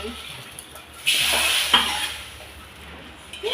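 Curry leaves hit hot tempering oil for a sambar and burst into a loud, hissing sizzle about a second in. The sizzle flares again, then settles into a steady crackle with light stirring nearby.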